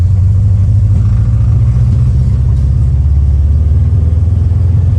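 A 1950 Volkswagen barndoor bus drives with its vintage air-cooled engine rumbling steadily, a loud, constant low drone and no voices.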